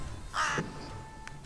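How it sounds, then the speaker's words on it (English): Raven cawing, one short harsh caw at moderate distance, faint against a steady background hiss, with a fainter brief call after. "Black raven."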